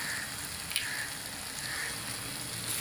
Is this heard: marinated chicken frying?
yes